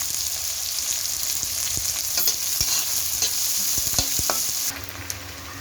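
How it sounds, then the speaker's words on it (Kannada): Onions frying in a pan with salt added for palak uppittu, a steady close sizzle broken by repeated scrapes and knocks of a spoon stirring through them, with no voices. "ಈಗ ಈರುಳ್ಳಿಗೆ ತಕ್ಕಷ್ಟು ಉಪ್ಪು ಹಾಕ್ಕೊಳ್ಳಿ."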